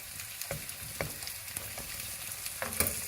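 Pork belly and fresh ingredients fry in a hot pan, a steady sizzle running throughout with a few louder scrapes and clatters as the mixture is stirred at irregular intervals.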